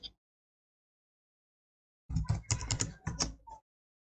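Rapid typing on a computer keyboard in an office setting, a dense burst of keystroke clicks lasting about a second and a half after a brief click and a pause, close and fairly loud.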